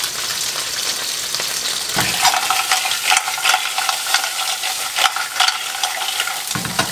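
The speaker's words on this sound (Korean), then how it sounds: "불을 높인 상태에서 조개를 볶아줍니다" Clams stir-fried in a pan over high heat for spaghettini vongole, a loud close sizzle with rattling shells and spoon scrapes tossing them around, continuous with no talk.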